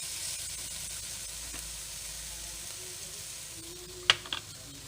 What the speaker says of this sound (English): Shiitake mushroom cooking on the pan.